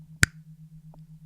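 A single crisp finger snap rings out sharply and close, standing alone against a steady low hum and quiet background.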